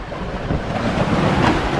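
Big sea waves wash and churn around a small fishing boat out tuna fishing in strong monsoon winds, a steady loud rush of water and wind buffeting the microphone with no talk.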